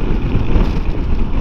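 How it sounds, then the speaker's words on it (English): Gusty wind roars steadily against a motorbike rider on a blustery road, a dense, buffeting rush filling the short stretch with no voices. "It's a very blustery, windy day today"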